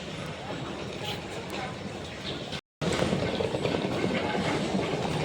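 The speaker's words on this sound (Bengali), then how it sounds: "আমরা ট্রেনে উঠে পড়েছি" Constant rumbling and rattling of a moving train carriage bound for Digha with a brief dropout, while people talk nearby over the noise.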